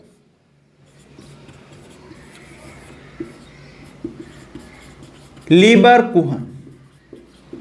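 Writing on a board during a Hindi-language biology lecture on animal tissue and gland types, faint scratchy strokes running under the lecturer's steady talking.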